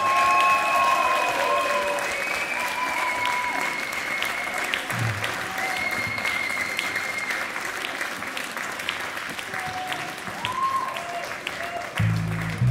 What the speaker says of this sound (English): Please, a big round of applause for them again.